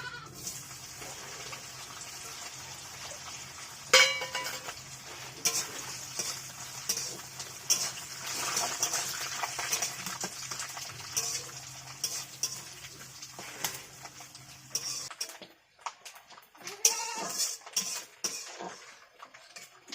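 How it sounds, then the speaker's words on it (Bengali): Grated coconut being dry-fried in a pan: a soft, continuous frying hiss with frequent scraping and stirring of a spatula, close by, with a brief louder knock early on and quieter stirring near the end. "নারকলটা কেটে রেখেছিলাম এখন এটাকে একটু ভেজে নেবে"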